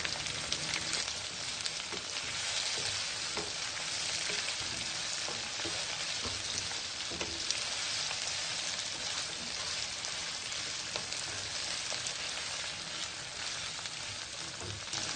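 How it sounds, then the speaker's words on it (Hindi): Capsicum fries in a pan for a chicken jalfrezi. The hiss is dense and continuous, crackles spread all through it, and occasional faint stirring scrapes sound close by. "शिमला मिर्च को हम भी फ्राई करेंगे"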